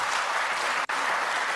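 Studio audience at a televised election debate between Rishi Sunak and Keir Starmer applauds steadily, a dense even wash of clapping with a brief dropout midway.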